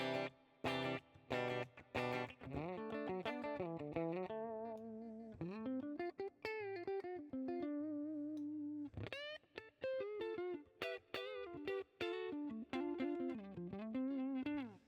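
Electric guitar played through a clean amp model on an FAS AX8 modeler with reverb, a melodic line of picked single notes and chords ringing out with short pauses, alone and fairly close.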